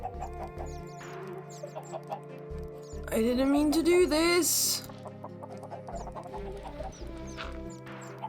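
Many chickens in a Minecraft game clucking in short, scattered bursts, with one louder, longer squawking stretch midway; someone speaks briefly over the flock.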